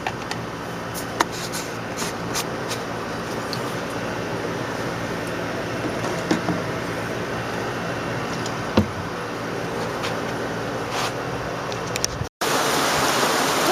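Rain falls outside after a sudden change from sunshine, a steady broadband hiss with occasional faint ticks and drops, continuous and even throughout, ending in a brief cut.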